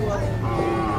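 Cattle on a farm give a single sustained low moo, close and fairly loud, filling the whole short moment.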